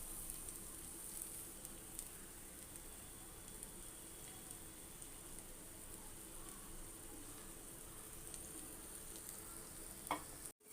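Eggs fry in oil in a pan over a medium flame, giving a steady, faint, even sizzle that runs unbroken, with a brief clunk near the end.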